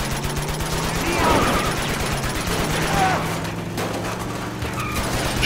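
Gunfire in the Uncharted 2 video game, rapid bursts of automatic shots crackling repeatedly over several seconds amid mechanical clatter and other game sounds.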